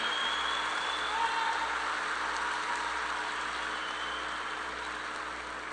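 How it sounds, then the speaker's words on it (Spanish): Audience applause for a panel of three priests at a national Eucharistic congress, a dense sustained clapping that fills the hall and fades slightly toward the end. "Les damos un fuerte aplauso a los tres por su intervención."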